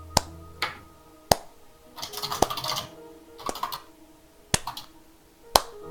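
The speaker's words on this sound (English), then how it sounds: "the sarcastic slow clap is appreciated, but not needed" A slow sarcastic clap of single sharp claps, spaced about a second apart and standing out distinctly, with brief rustling noise between some of them.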